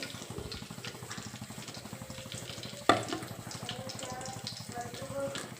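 Curry leaves dropped into heated oil for a green chicken dish crackle and sizzle steadily up close, with one sharp pop partway through.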